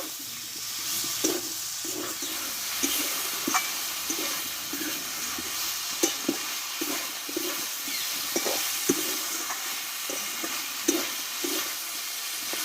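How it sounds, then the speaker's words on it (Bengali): Potatoes with drumstick stalks frying in spice paste, a constant loud hissing sizzle with regular scraping knocks of a spatula stirring the pan, close and steady throughout. "এবার কিছুক্ষণ একসঙ্গে ভালোভাবে আমি কষে নেব"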